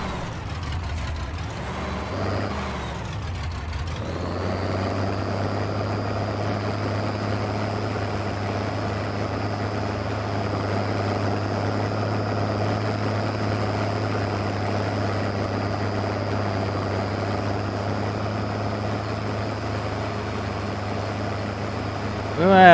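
Farming Simulator 22 tractor engine, an Oliver 1855, idling with a steady low drone and a constant higher whine, loud and continuous with no talk over it after a brief shift in the opening seconds.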